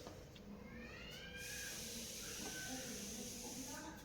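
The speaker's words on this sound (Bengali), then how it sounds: "বাকি পরোটাগুলো আমি ভেজে নিচ্ছি।" Leftover dal parathas sizzle in a hot pan, a steady broadband hiss of frying oil running throughout at moderate, close level with no talking.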